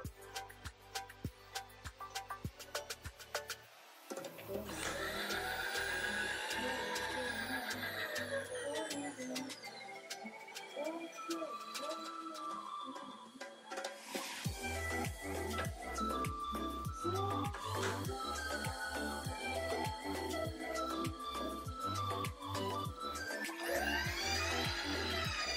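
Power feed drive on a Precision Matthews milling machine under test, its gears freshly lubricated with white lithium grease, a steady mechanical whir and gear hum that starts up, shifts in pitch and runs on continuously, fairly faint, with no talking.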